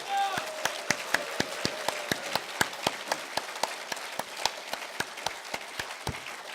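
Rhythmic unison clapping from a large crowd at a political party founding rally rings out in sharp, evenly spaced beats, fairly loud and steady throughout.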